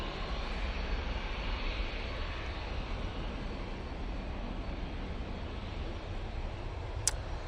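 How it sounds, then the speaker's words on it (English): A Jet2 Boeing 737 without winglets takes off at Manchester Airport, its engines a steady, distant broadband roar that holds level throughout. "Using a fair bit of runway there with very likely a derated takeoff"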